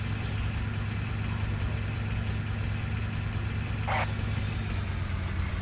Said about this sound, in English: I even left the engine running, I can hear it